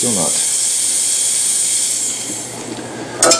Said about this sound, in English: the thing about Creminas is that you get a pretty impressive, oh wow, steam function